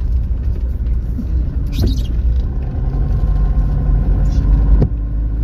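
A motorcycle engine rumbles low and steady on a flooded street, with a couple of brief splashy or clattering bursts over the continuous drone.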